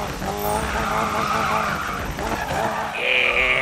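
Tires squeal and skid continuously as a Toyota drifts in Need for Speed 2015, with steady loud engine roar and a rising screech near the end.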